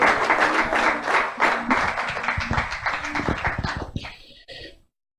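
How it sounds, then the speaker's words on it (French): A church congregation breaks into applause, a dense burst of many hands clapping at close range that thins into scattered claps and stops abruptly. "We're going to clap for everyone who is here."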